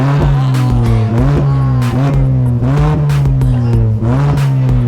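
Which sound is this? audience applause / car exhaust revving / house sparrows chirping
car exhaust revving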